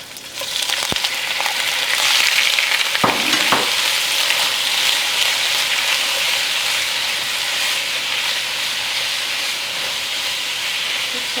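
Shrimp sautéing in a hot pan for vindaloo with dried tomatoes and vegetables, a steady close sizzle of oil and moisture lasting throughout, with a couple of brief clicks of a utensil near the start and no talking.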